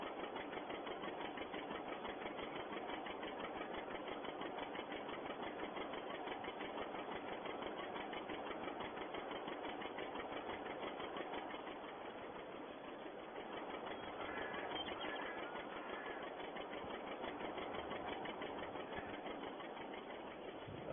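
A 1951 tractor engine runs steadily while tedding hay in a field, a continuous mid-pitched drone that holds even throughout with a slight dip partway, no talk over it.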